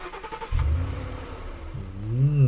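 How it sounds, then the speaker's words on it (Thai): Car engine revs up in Roblox Mad Road, a loud low growl that kicks in abruptly, holds steady, then climbs in pitch near the end with no talking over it. "เครื่องแรงซะด้วย"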